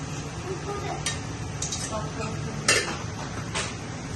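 Hot oil spluttering in a pan while cooking dahi kadhi: a steady sizzling hiss with sharp crackling pops and metallic clinks of utensils, several distinct bursts scattered over the clip, and a voice speaking briefly.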